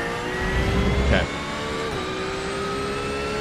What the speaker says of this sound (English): Car is really loud.